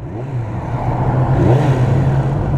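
A motorcycle runs in gear under throttle after a clutch basket rebuild, with a steady low engine drone that swells slightly and a faint rattle riding over it, close and loud throughout.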